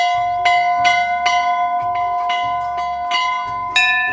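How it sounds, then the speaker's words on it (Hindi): The oldest bell at a Himalayan temple in an Uttarakhand village rings loudly and close, struck about seven times in a steady rhythm, each clang ringing on and overlapping the next. "और अंतिम गेट माँ के दरबार के लिए, सबसे पुराना घंटा देखो भाई,"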